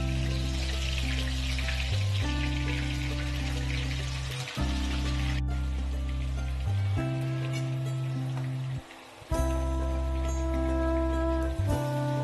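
Chopped onions hit hot oil in a pan for a mutton ghugni, a loud, close, continuous sizzle and crackle with a few brief gaps and a steady low hum beneath.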